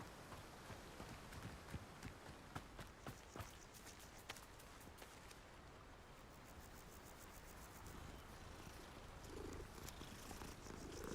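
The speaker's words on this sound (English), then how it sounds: "Bunch of kitties everywhere, huh?" Cats purr softly in the Hogwarts Legacy video game, a low continuous rumble under faint footsteps and light ambient game sounds, quiet throughout.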